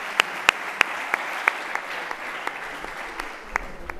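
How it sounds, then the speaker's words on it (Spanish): Audience applauding at a PSOE candidacy presentation in Alhaurín el Grande, dense steady clapping from a packed hall with a few loud close claps standing out, continuous throughout. "Un fuerte aplauso para él."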